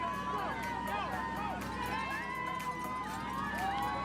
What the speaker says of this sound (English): And getting plenty of love here from this crowd.